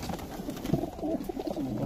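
Large pair-bred pigeons coo softly and repeatedly at close range, a steady run of low, rolling calls with no talking.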